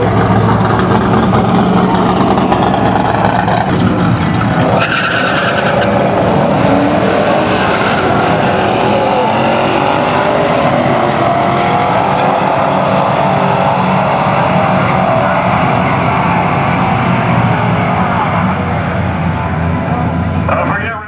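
A loud, continuous roar of an LS-swapped drag racing car on street tires at Union Grove, Wisconsin, filling the whole stretch, with rising pitch as it accelerates hard and a buzzy droning undertone throughout.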